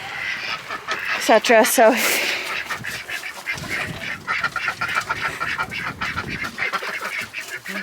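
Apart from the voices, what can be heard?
ducks quacking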